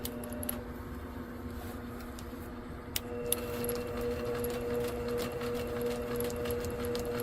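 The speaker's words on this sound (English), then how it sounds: "I'm using micro quilter to go around all this applique." A micro quilter machine stitches around applique on a quilt, giving a faint, steady mechanical hum with light ticking and a few sharp clicks, with no talk.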